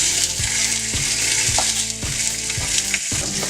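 Bacon sizzling and frying in a pan while a full fry-up is cooked, a loud steady hiss with repeated low thumps and scrapes as pieces are turned, no voices.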